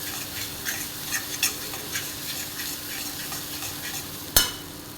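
Spiced masala for urad dal amti sizzles steadily in hot oil with soft stirring scrapes throughout, ending in one sharp utensil clack near the close.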